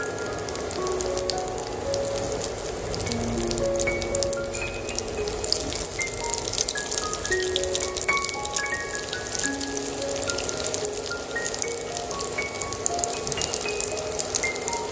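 Chicken meat chops frying in hot oil in a home kitchen pan, a continuous close sizzle with scattered crackles and pops and no voices.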